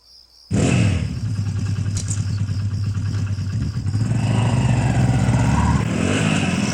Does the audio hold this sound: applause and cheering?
no